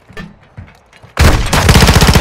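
Call of Duty gunfire: after a second of quieter scattered sounds, a loud, dense burst of rapid automatic shots erupts and keeps going as heavy continuous firing.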